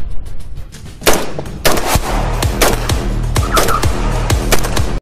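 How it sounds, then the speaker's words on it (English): Loud gunfire from an HK416 rifle, which fires in semi-automatic and fully automatic modes: sharp shots crack out in quick succession and rapid bursts, with the booming report repeating steadily across the whole stretch. "The HK416 is popularly known as the gun used to kill Osama bin Laden in 2011."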